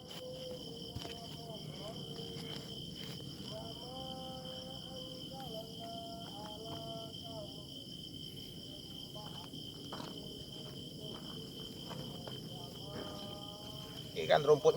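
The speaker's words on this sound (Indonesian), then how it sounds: "Hanya ditemani oleh suara-suara serangga" Insects chirping at night in tall grass at a dark spot in Talang Kerikil, Palembang, a steady dense buzz with crickets trilling throughout, and a few louder knocks right at the end.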